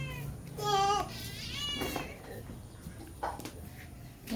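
A cat gives a short meow near a hammock, faint and close, followed by quiet rustling and a brief voice.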